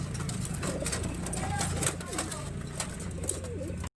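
Racing pigeons at a Philippine pigeon race in Natividad, Pangasinan, cooing and calling over a steady outdoor background, with voices talking throughout.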